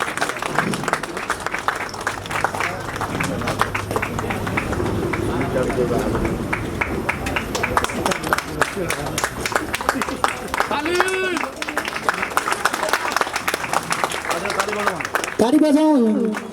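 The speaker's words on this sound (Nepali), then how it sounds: "ताली बजाउँ सबै साथीहरू, ताली बजाएर साथ दिउँ।" A crowd at a Nepali Congress (BP) regional party office inauguration claps steadily throughout, with people talking over the applause and a louder burst near the end.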